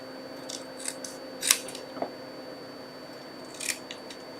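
Scissors trimming card paper for a triple Z-fold stamped card, a few short crisp snips spaced apart, close and fairly quiet against a faint background hum.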